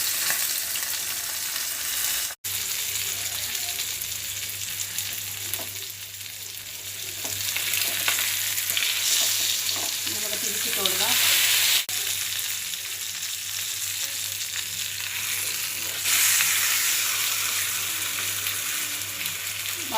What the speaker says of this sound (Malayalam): നമുക്ക് ഓരോ കരിമീൻ വീതം ചെറിയ മൂപ്പിൽ വറുത്തെടുക്കാം